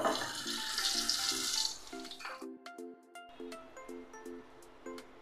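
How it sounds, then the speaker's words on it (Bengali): Green chillies and a bay leaf hitting hot oil for tempering, a loud hissing sizzle that bursts up and then fades, with spoon clinks and a repeating musical tone running underneath. "2টো কাঁচা লঙ্কাও আমি ফোড়নে দিয়ে দিচ্ছি।"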